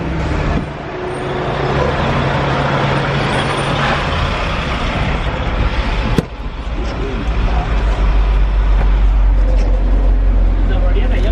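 A truck drives along a road with a steady, loud engine rumble, and a sharp burst of air brakes hisses out near the middle.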